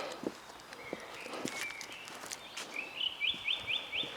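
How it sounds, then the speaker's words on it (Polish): Small birds sing in a cemetery, bright chirps and a trilled phrase repeating toward the end, heard at moderate distance over footsteps on a path. "Ptaszki ładnie śpiewają."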